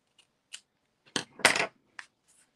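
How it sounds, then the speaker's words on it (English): Scissors snip the ends of paper trimmed on a handmade card, giving a few short, crisp cuts close by, with two louder snips in the middle among faint taps, and no talking. "you can just go ahead and snip the ends off"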